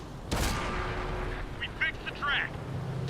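Gunfire in the video game Island Race: one loud broadband shot bursts out early, then the mix settles into game ambience with a few short chirping sound effects, no talk over it.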